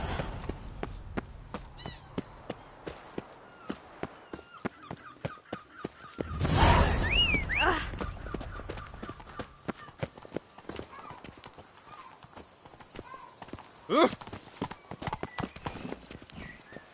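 Roach, the horse in The Witcher III: Wild Hunt, clip-clops in a quick, regular hoof rhythm, with a louder burst of movement and a whinny midway before the hoofbeats carry on, and a brief voice over it.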